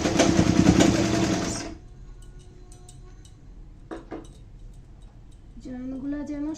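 A sewing machine stitches a gharara in a dense, loud burst for under two seconds, then stops, leaving quiet handling clicks and a brief voice-like tone near the end.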